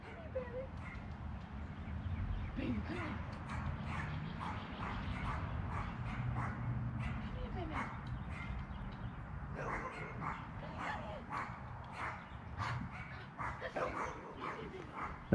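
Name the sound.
dog barking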